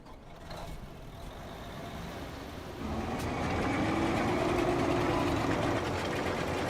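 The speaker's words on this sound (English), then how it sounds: "So we'll get the combine past that point" A combine harvester in Farming Simulator 25 drives along, its engine a steady mechanical drone that grows louder and fuller partway through, with no voices over it.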